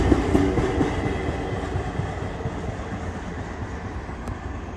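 An intermodal freight train rolls past close by, a loud continuous rumble with rhythmic clickety-clack of wheels over rail joints, steady throughout.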